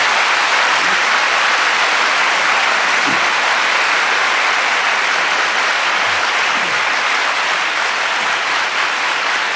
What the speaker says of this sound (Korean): 박수 한번 치시고.